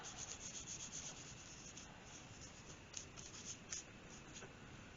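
Pencil being erased on watercolor paper, a steady dry rubbing scrape with small scratchy peaks, close and quiet with no voices.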